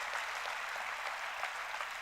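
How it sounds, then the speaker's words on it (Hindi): An assembled crowd at a religious ceremony in Bhopal claps in a steady, faint-to-moderate burst of applause, heard from a distance with no voices over it. "एक बार जोरदार ताली बजाकर"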